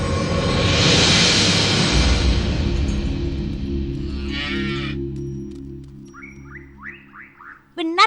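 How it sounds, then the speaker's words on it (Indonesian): A cow moos loudly and close up for several seconds, a long low drawn-out call, followed by quieter rustling and a few faint bird-like chirps near the end. "Makanlah supaya kau bisa menjadi sapi dewasa yang besar nantinya dan menghasilkan banyak susu untuk Krishna dan Balaram."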